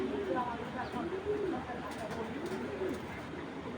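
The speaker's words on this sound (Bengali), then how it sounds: "এটা পুরান জাতের একটা তোতা কবুতর।" An old-breed Toti pigeon coos close by in repeated rolling, throaty phrases, with a low murmur of voices in the background.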